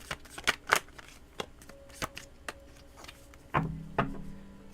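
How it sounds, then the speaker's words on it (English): Tarot cards shuffled by hand, with irregular snapping riffles and soft slaps, close and distinct against a quiet background. "let me just make sure I shuffle these really well"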